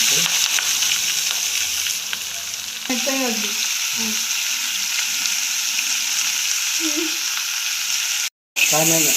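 Onion, tomato and legumes fry in a pan with a steady close sizzle, broken by occasional scraping stirs and clinks, and one brief silent gap near the end.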